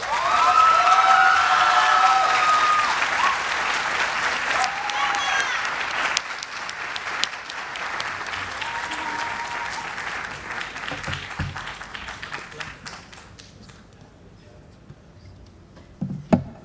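Audience clapping after a Formula Student business plan presentation, loud sustained applause with some cheering that gradually thins out, followed by a few scattered claps and quieter room noise.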